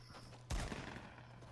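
Video game gunfire bursts in abruptly partway through and keeps up as a dense, loud volley of rapid shots with no pause.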